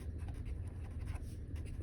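Pen or pencil scratching on paper during a math lesson on quadratic equations, brief quiet rhythmic strokes close to the microphone with no talking.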